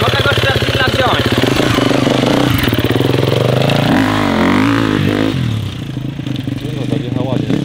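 A new KTM 250 EXC-F dirt bike engine revving up and pulling away close by, its pitch climbing and falling before settling, with voices talking over it.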